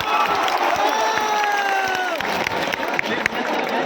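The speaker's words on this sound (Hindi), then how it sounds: "अपने लिए जोरदार ताली बजाइए बैठकर आप" Applause from a seated crowd at a political rally in Patna, dense clapping mixed with loud crowd noise, cheering and shouting voices, steady throughout.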